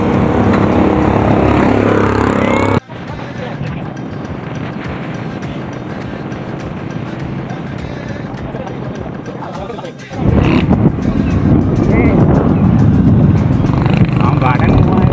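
A vehicle engine rumbles steadily near a seaside road, a continuous loud drone with an abrupt drop and return partway through, while people talk over it.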